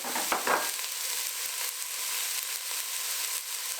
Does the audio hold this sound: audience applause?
no